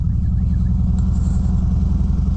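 A 2017 Harley-Davidson Road King touring motorcycle engine rumbling steadily while riding, a loud, low, pulsing drone with wind noise over it and no talking.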